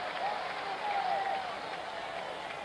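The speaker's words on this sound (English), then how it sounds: "Didn't take long for this crowd to get something to cheer about." A crowd at a 1975 World Series game at Boston's ballpark cheers and applauds in a sustained, fairly distant roar with a faint whistle, under an announcer's voice.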